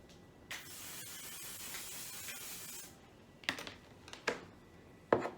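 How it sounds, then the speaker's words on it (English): Spray adhesive being applied to an embroidery hoop: a steady close hiss for a few seconds, followed by several short sharp bursts of spray or handling noise. "I'm going to respray my hoop again."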